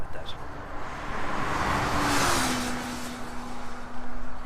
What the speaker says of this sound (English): I believe there's a car and a motorcycle that happen to be passing simultaneously.